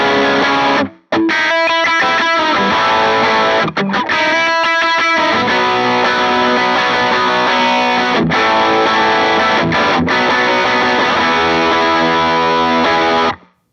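An electric guitar plays loud, heavily distorted pop-punk chords and riffs through an MXR Duke of Tone overdrive pedal, with brief stops between phrases and a sustained, saturated sound throughout.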